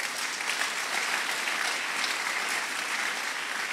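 A church congregation applauds the Lord with steady, dense clapping that fills the room at an even level throughout, without a clear break.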